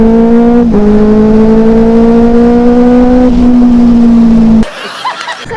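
A superbike engine revs loud and close, a steady tonal roar whose pitch creeps upward over several seconds before cutting off abruptly, followed by quieter street noise.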